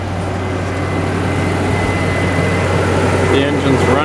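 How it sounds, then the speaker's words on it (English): A steady, low engine idle hums continuously throughout, loud and close, with a faint higher whine riding on top. "The engine's running right now."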